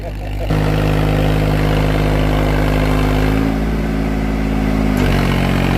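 A Swaraj 744 tractor engine runs loud and close under load with a steady, deep diesel drone, shifting pitch slightly midway and again near the end.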